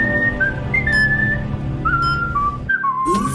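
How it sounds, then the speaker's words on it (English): A clear, close whistled melody of the Toreador March aria from the opera Carmen, a sequence of sustained notes stepping up and down over a low background. "This tune Wallaby whistles is the aria Toreador March from the French opera Carmen."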